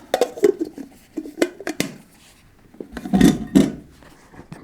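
Metal clatter of an MSR Pocket Rocket Deluxe camping stove being pulled from a metal kettle, with several clinks and knocks, then two louder clanks near the end, heard close up and outdoors.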